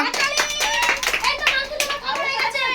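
Rapid clapping by several people, close and loud, mixed with children's excited voices and chatter during a bottle flip contest.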